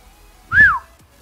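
A person gives a single short whistle that rises and falls, sharp and close, to set off a camera's whistle-triggered photo, alone against a quiet background.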